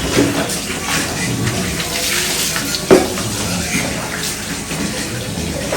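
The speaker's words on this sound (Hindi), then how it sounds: "गाइस पापा ने रैगनर को पानी से धो दिया अच्छे से।" Tap water pours steadily during a bath for Ragnar the dog, a continuous rushing stream with occasional splashes and brief knocks.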